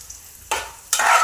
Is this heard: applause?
no